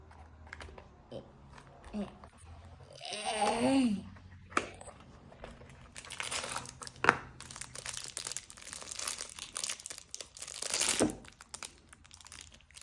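Crinkly packaging of a chocolate Labubu, strawberry flavour, is torn and crumpled open in a few bursts of rustling, with some bright crackles near the middle, while people talk between the rustles.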